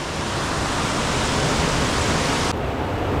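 The Vorotan river in Armenia rushing along in a loud, continuous broadband roar of flowing water that holds steady throughout, with no voices.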